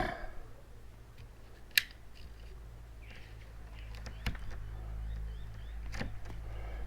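Floor material for a camper being cut: a few faint, sharp snips and clicks spaced out over a quiet background.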